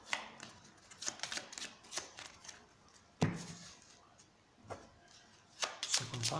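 A deck of playing cards being shuffled by hand, with repeated quick riffles and soft slaps at close range, quiet and without talk.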